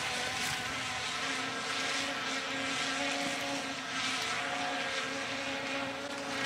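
A Veeniix V11 Pro drone flies overhead with a steady, continuous propeller whine and buzz, moderately faint and unchanging in level, with no voices.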